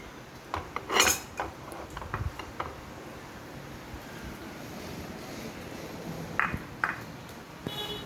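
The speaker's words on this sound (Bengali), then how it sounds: "এরপর দেবো আমি একটু বেসন, 1 চামচ মতো বেসন" A spoonful of gram flour tipped into a bowl of chopped onion, green chili and tomato for crispy oats pakoras, giving a few soft scrapes and clinks of spoon on bowl, with a sharper clatter near the start and light taps later.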